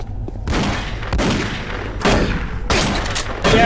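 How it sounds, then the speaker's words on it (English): Heavy gunfire from the Doom 3 horror shooter, a series of loud booming blasts and bursts in quick succession with dense rumbling noise between them and no talk. "getting a shotgun to the fucking face doesn't do shit now"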